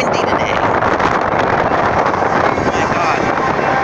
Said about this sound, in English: It's so fucking windy today.